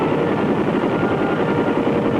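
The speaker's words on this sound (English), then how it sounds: "the heavily armed Huey gunships" A heavily armed Huey gunship helicopter thunders close by, its rotor chopping in a steady, rapid pulse over a dense engine roar for a couple of seconds, with no voices.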